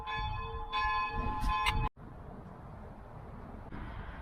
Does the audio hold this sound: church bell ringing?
yes